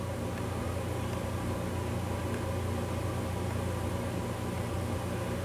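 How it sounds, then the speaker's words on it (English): A model train locomotive rolls forward on an NCE DCC layout, giving a steady, even motor hum over constant broadband noise for the whole stretch, with no talking. "controller again and roll that engine forward."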